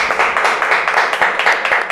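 A studio audience applauds a guest named Leonardo on a talk show, with steady, rhythmic clapping in even beats that carries on without a break and no talk over it.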